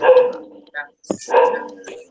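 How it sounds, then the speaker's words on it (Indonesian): A dog barks a few times near an open microphone during an online class session, short sharp barks separated by brief gaps, with possible voices mixed in. "Ada suara gonggongan anjing itu ya."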